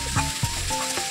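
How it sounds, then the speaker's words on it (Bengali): Potatoes frying in oil with dried red chillies, a brief close sizzle with a few sharp crackling bursts and a scraping stir. "এই আলুটাও ভেজে নেব, সাথে একটু শুকনো লঙ্কা ফোড়ন দিয়ে দিয়েছি"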